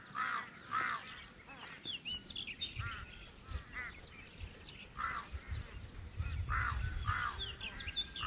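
Birds call outdoors at a distance, scattered chirps and squawks coming and going over a soft ambient background.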